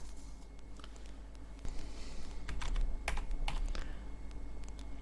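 Quick, light keystrokes clatter on a computer keyboard in short bursts, close and fairly quiet, with no talking.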